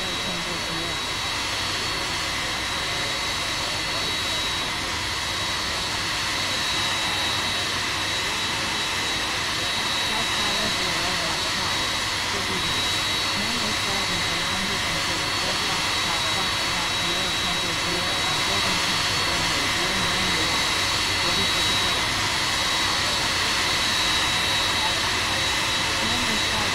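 Steady, loud roar of airliner jet engines building through a takeoff roll at runway 09L in the X-Plane 11 flight simulator, a continuous broadband rush with a thin high whine, with no talk over it.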